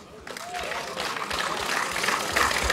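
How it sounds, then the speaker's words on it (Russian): A crowd of veterans at an opening event applauds, the clapping starting softly and building into a dense, sustained roar that grows louder toward the end. "Аплодисменты, ребята, ну не пожалейте соседям, ёлки."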